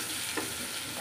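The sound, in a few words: bitter gourd frying in a pan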